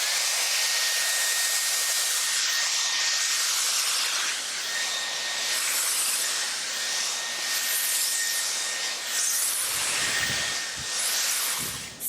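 A Dyson Airwrap with the smoothing brush attachment blows hair dry at highest airflow, a loud steady close-up rushing hiss that continues throughout, with brushing rustles near the end.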